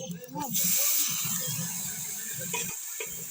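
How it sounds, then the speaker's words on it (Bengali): Bata fish sizzles in hot oil with green chillies and vegetables, a steady bright hiss rising after a brief start and running continuously beneath a person talking. "লঙ্কার যে একটা ঝাঁজ ঝাঁজি থাকে সেটা বেরিয়ে যাবে হালকা ভেজে নিতে হবে"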